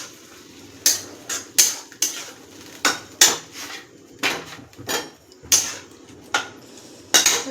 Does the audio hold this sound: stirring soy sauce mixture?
yes